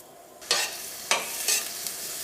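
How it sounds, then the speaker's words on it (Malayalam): Onion, ginger, green chilli and curry leaves hit hot coconut oil with three sharp bursts of sizzling and stirring, close and loud, settling into a steady fry between them. "നമുക്ക് ചൂടായ വെളിച്ചെണ്ണയിലേക്ക് സവോളയും ഇഞ്ചിയും പച്ചമുളകും വേപ്പിൻ്റെ ഇലയും ചേർക്കാം."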